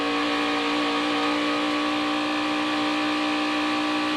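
Several 550-horsepower NASCAR stock car engines drone and accelerate together at a California race, a loud, steady, sustained roar.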